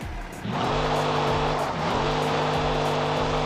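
A new truck fitted with off-road tires drifts with loud, close engine roar that dips and climbs as it revs, under a rough scrubbing hiss of tires sliding across the surface, with no talking.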